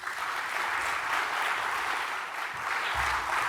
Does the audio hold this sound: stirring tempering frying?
no